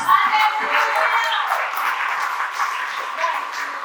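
A church congregation applauds during a sermon, a dense, steady wash of clapping from many hands that holds at a loud level throughout.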